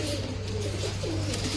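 Pigeons in a loft cooing softly and steadily alongside a hum, a low continuous murmur with no talking.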